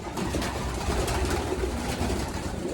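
Racing pigeons coo softly in a loft amid a busy background of rustling and shuffling, several low throaty calls overlapping over a few seconds.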